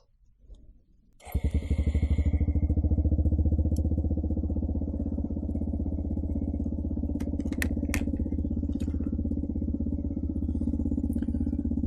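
A Suzuki Gixxer 150SF motorcycle fitted with a Yoshimura full exhaust starts up and settles into a loud, steady, throbbing idle close by, with a few faint clicks over the engine.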